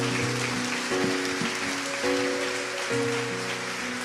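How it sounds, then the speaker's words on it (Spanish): A church congregation claps steadily together, a dense hiss of hands beneath sustained musical tones that shift pitch every second or so. "Vamos, denle un lindo aplauso al Señor."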